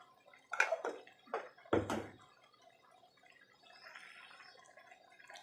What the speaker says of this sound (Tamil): கொஞ்சமாக தண்ணி சேர்த்தி மிக்ஸி ஜாரை ஒரு குலுக்கிட்டு அதை இதிலையே ஊற்றிடுறேன்